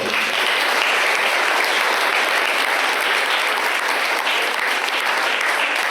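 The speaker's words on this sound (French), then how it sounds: "Merci pour les applaudissements." A large audience applauds steadily after a round-table discussion on solidarity, a dense, even wash of many hands clapping throughout, close and loud with no speech over it.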